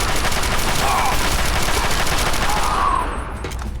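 Sustained automatic gunfire in the video game Fallout 3, a loud dense continuous rattle of shots lasting about three seconds before tapering off.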